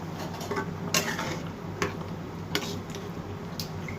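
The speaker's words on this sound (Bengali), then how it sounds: "ঢাকনাটা খুলে লাড়া দিয়ে দেব" In a kitchen, a metal pot lid comes off and a spoon stirs the pot, making a few sharp metallic clinks and scrapes spread across a steady low background hum, close and moderately loud.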